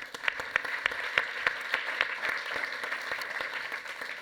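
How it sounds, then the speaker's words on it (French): An audience at a health conference keynote applauds a speaker as he is welcomed on stage, with steady, fairly loud clapping and distinct individual claps at a regular rhythm. "on peut l'applaudir"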